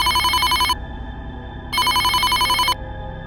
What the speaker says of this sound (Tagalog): Nagri-ring ang telepono niya pero walang sumasagot.